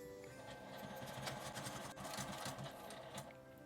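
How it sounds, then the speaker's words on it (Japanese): A sewing machine edge-stitches a clear plastic window onto a fabric mask, running steadily at close range with a rapid, continuous mechanical chatter throughout and no talking. "表側から端ミシンをかけます。"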